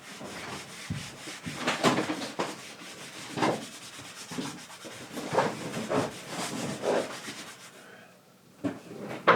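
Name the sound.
polishing wax on a Halloween mask with cloth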